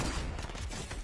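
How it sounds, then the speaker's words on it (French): Sniper rifle fire in Fortnite, a short dense stretch of sharp cracks and low thuds heard close and fairly loud, with no talking. "Ouh, la balle de sniper."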